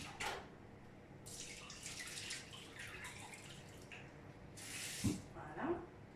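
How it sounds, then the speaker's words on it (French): Sliced potatoes are rinsed under a running kitchen tap to remove excess starch, a faint, steady water flow with soft splashes near the end. "Donc tout simplement un petit peu les passer sous l'eau."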